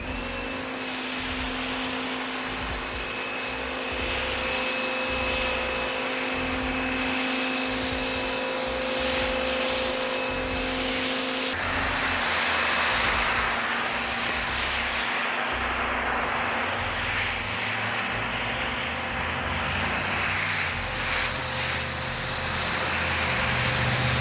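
An MJJC Foam Cannon S V3.0 on a pressure washer sprays foam onto a car, a steady, loud hiss and whine of pressurized spray with a droning motor, continuing unbroken for the whole stretch without talk.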